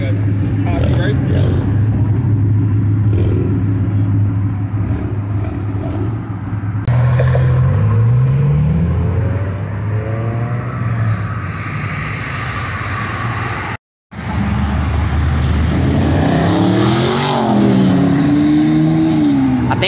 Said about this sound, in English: I think that was a Hellcat.